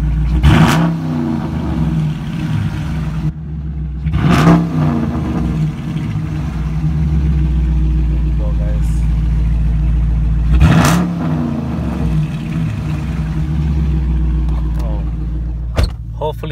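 A 2017 Dodge Challenger R/T with a muffler delete idles loudly after a semi-cold start, a deep steady rumble punctuated by three or four sharp revs, heard from inside the car.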